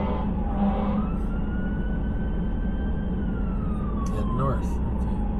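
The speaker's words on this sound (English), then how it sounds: "Siren somewhere. I don't see it anywhere. There. Fire truck." A fire truck siren wails in Minot, North Dakota, its pitch slowly rising then falling, heard at moderate distance over steady traffic and wind rumble.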